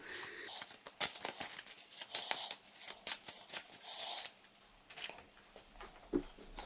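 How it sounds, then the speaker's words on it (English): Playing cards being shuffled at a board game table, a run of crisp riffles and flutters, close and fairly quiet, with no talk. "We have our cards here. Let's give them a shuffle."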